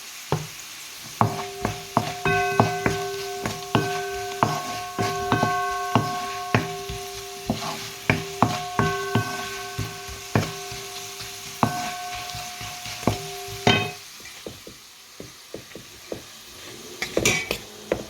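Puttu kothu being stir-fried with a sprinkle of salt in a pan: repeated metallic scrapes and clanks of a utensil against the pan come in quick bursts over a soft sizzle, close and fairly loud.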